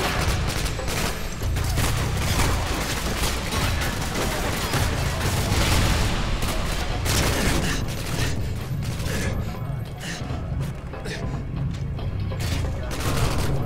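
Sustained gunfire and explosions from the Call of Duty Modern Warfare 2 video game, a dense, loud, continuous barrage of shots and booms with short radio-style voices mixed in underneath.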